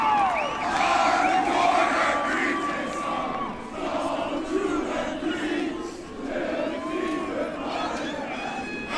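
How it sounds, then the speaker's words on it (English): A large college football crowd cheers and shouts continuously at O'Shaughnessy Stadium during a Division III semifinal, with whoops and yells rising over a steady roar, heard from a distance. "Coach Caruso basking in the adulation and the applause from the St. Thomas faithful here at O'Shaughnessy Stadium"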